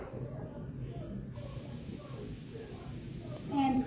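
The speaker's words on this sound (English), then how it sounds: "I'm going to go ahead and get a 9x13 baking dish and spray it with some cooking oil" Cooking oil spray hisses onto a 9x13 baking dish in a home kitchen, close to the mic. It comes as a short steady burst over quiet room noise, with a faint clink at the end.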